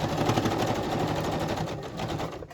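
A sewing machine stitches through paper and fabric for a vintage lace journal cover, running with a fast, steady mechanical chatter at close range that slows and stops just before the end.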